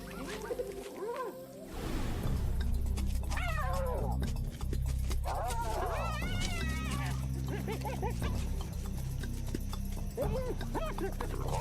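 A hyena clan in Africa calls over a rumbling background, with rising and falling whoops, yelps and growls overlapping continuously and loudly.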